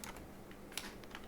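Typing on a computer keyboard: a quick, irregular run of soft key clicks, close but faint, with one sharper tap near the middle and no talk.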